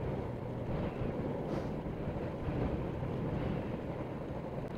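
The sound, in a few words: strong wind on the road at the megadike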